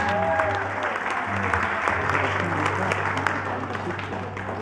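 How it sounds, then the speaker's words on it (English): An audience claps loudly and steadily for a Hawaiian musician after his song about Hōkūleʻa, with dense clapping filling the room, a low steady hum underneath and brief tonal sounds near the start. "one more time, if you can, please, a big round of applause."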